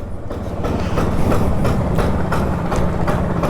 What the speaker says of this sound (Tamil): இந்த கிணத்து மோட்டர் டீசல் இன்ஜின் ஸ்டார்ட் பண்ணி விட்டால் எப்படி ஓடும், டக் டக் டக் டக் டக் டக் டக்ட்டு அந்த மாதிரி ஐடிலிங் ஓடிட்டுருக்கு